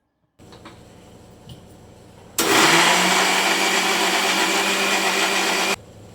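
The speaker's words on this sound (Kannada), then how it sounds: "ಅದೇ ಮಸಾಲೆಗೆ ಈಗ ಆಗಲೇ ಹೆಚ್ಕೊಂಡಿರೋಂತಹ ಈರುಳ್ಳಿ ಮತ್ತು ಟೊಮೊಟೊನ ಹಾಕ್ಕೊಂಡು ಮತ್ತೆ ತರ್ತರಿಯಾಗಿ ರುಬ್ಕೋಬೇಕು" A kitchen mixer grinder coarsely grinds masala with chopped onion and tomato, a loud steady whirring motor drone that starts abruptly, runs for about three seconds and cuts off, preceded by quieter handling noises.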